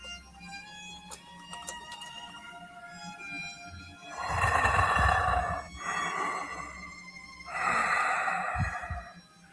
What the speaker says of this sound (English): the low, hollow rhythm of breathing. Slow, deep, too steady to be the echo of pipes.